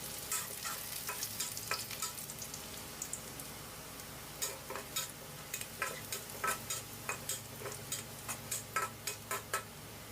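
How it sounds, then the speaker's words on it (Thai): Garlic stir-frying in hot oil in a wok for a Thai pork and banana pepper stir-fry, a steady sizzle with a spatula scraping and clinking in repeated strokes that turn more regular toward the end, close and alone. "เมื่อน้ำมันของเราร้อนได้ที่เราก็นำกระเทียมลงไปผัดให้เหลืองหอมเลยครับ"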